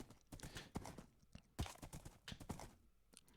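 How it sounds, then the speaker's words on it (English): A horse in a Minecraft-style survival multiplayer game clip-clops along with quick, uneven hoof knocks, close but quiet, with no talk over them. "I always forget my horse can jump."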